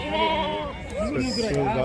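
Several sheep bleat nearby at a sheep market in Gudur, overlapping wavering calls one after another, loud and close, with a busy flock of about forty in the background.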